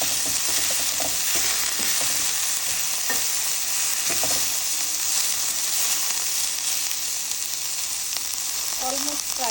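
Three pieces of rui fish fry in a pan, a constant loud sizzle with occasional scraping and stirring sounds running through it.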